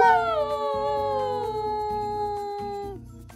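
A single long, drawn-out dog howl slides slowly downward in pitch over a few seconds, with a soft rhythmic background sound underneath.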